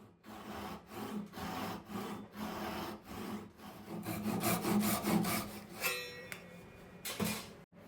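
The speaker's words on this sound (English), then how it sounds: "I understand that this is a crosscut saw. I just found it a little bit easier to start the cut with this" A hand saw cuts walnut for a butcher block, its steady back-and-forth strokes rasping close and clear, speeding up into quicker strokes toward the end.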